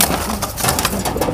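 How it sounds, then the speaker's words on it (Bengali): Blue barred pigeons cooing at close range, a low continuous murmuring burble lasting only a moment. "এখানে চমৎকার আরো এক জোড়া কবুতর, দেখতেই পাচ্ছেন এটা ব্লু বার্কিং"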